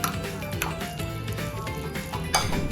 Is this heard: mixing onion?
yes